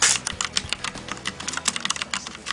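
Fast typing on a mechanical keyboard with quiet black linear switches, a dense stream of soft, close keystroke clicks with no talk.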